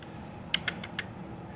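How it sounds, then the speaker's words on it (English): Tab key tapped twice on a computer keyboard: a few sharp, close plastic clicks in quick succession over a faint steady room hiss, no speech. "if you hit tab twice"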